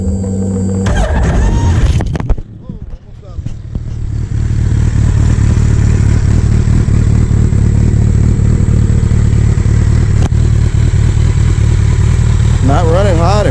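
A Suzuki Hayabusa GSX1300R sport motorcycle, recovering after a wreck, runs close and loud at a steady idle with a deep, continuous engine rumble after a brief rev and stutter at the start.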